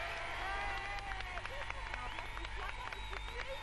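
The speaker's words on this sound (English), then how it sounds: "The crowd cheered with appreciation." A 1988 crowd at Port Sunlight cheers as the Queen and Prince Philip meet, a dense outdoor roar of voices with whistles and shouts running throughout at steady loudness.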